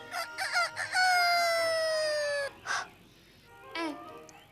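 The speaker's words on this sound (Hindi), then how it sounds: "Hen यानी मुर्गी।" A rooster crows loudly and close by in one long drawn-out call, with short clucks before it and a few more clucks and squawks after, in a quiet setting.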